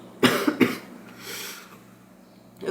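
A few harsh coughs from a woman close by, two sharp bursts early on followed by a fainter rough throat sound, then quiet room tone.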